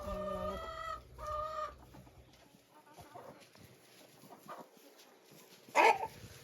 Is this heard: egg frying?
no